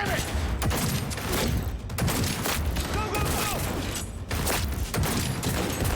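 Johnny's gun fires in Cyberpunk 2077 with loud, close shots in quick irregular bursts separated by short gaps, alongside mechanical clatter and some voices mixed in.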